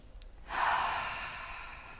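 One long, audible outward breath, a soft airy sigh that swells after a brief quiet pause and then slowly fades, close and fairly faint, with no talk.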